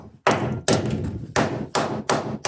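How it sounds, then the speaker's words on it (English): A hammer bangs on the floor of a Sprinter van five times in steady, spaced strikes, each a loud close metallic thump with a ringing tail. "give it a bang with a hammer"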